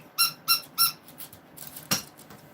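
Squeaky dog toy squeezed three times in an even rhythm, sharp close squeaks, followed by softer rustling and one more quick squeak, in a quiet kitchen with no talking.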